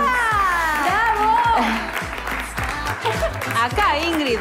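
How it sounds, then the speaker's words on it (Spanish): A studio audience on a celebrity TV show applauds for a contestant, the clapping partly buried under excited overlapping voices and cheering. "Un aplauso para Ingrid."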